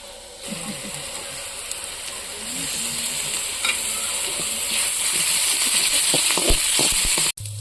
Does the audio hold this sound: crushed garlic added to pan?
yes